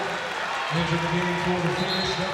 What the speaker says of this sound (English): they get a loud round of applause